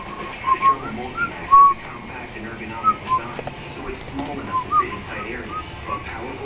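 Pet cockatiel whistling a song indoors, soft clear whistled notes scattered through the clip over a steady low background hum, with no talking between them.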